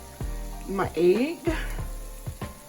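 Corned beef hash and an egg frying in a pan, with a steady close sizzle and crackle. Scraping or stirring clicks sound now and then, and a voice talks briefly over it.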